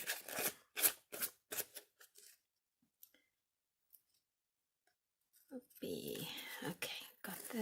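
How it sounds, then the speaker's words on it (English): Scissors cut off excess material for an affirmation jar craft in a quick run of crisp close snips, then a pause with faint clicks before rustling handling and soft speech. "So first things first is to cut off the excess here quickly."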